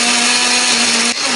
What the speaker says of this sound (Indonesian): kemudian baru kita blender